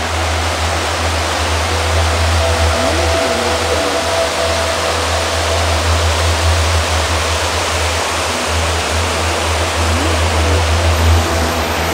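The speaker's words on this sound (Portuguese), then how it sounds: "Pegamos a outra cachoeira." Steady roar of a waterfall on a mountain bike trail near Jordânia, Minas Gerais, a continuous broadband rush with a low rumble, constant and fairly loud with no talk.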